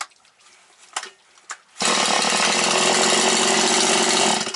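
Stihl 180 chainsaw, just repaired and started cold, roars into a loud, steady near run after a few quiet clicks and handling noises, holding high revs without a break.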